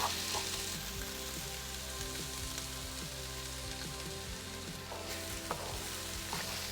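Spices fry for shakshuka in a pan, giving a continuous soft sizzle with faint crackles and an occasional scrape, quiet and close, with no voices.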